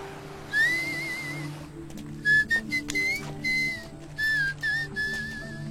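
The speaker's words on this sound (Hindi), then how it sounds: "आप बिना मुंह हिलाए सीटी कैसे बजाते हो?" A person whistling without moving the lips, a clear melodic tune in short phrases: one sustained note, then a run of brief rising and falling whistled bursts with pauses between, close and alone over a faint low hum.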